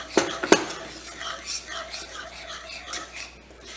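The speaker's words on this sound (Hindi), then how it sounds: "और इसको मिक्स कर" Cheese sauce with oregano being stirred in a pan for a homemade nacho cheese dip, two sharp utensil clinks against the pan early on, then soft continuous scraping and mixing.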